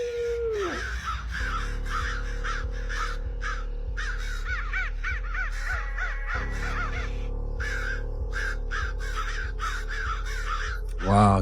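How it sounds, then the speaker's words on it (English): A large flock of crows caws continuously, many overlapping harsh calls near and far over a steady low engine-like hum, with a brief louder burst at the very end. "Wow, that's a bunch of birds."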